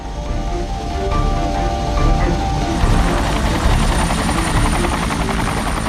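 A helicopter roars loudly and steadily nearby, its rotor chop and engine whine filling the air without a break.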